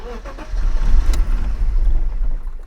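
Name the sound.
car engine being started, misfiring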